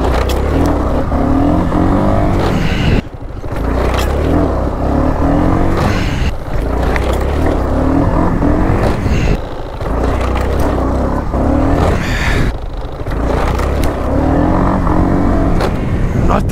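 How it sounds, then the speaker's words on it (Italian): A Honda SH300 scooter engine revs loudly and close by, repeatedly surging then cutting out and stuttering, with several abrupt dropouts between bursts of acceleration as it loses power. "C'è proprio un vuoto di motore che non accelera più."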